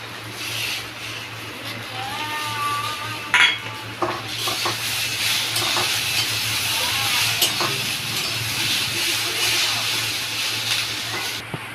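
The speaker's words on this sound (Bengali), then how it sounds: "এবার আমি কাঁচা লঙ্কা আর টমেটো দিয়ে দিচ্ছি।" Green chillies and tomato hiss and sizzle in a hot pan through a steady frying bed, with scrapes and light clinks of a spatula stirring against the metal.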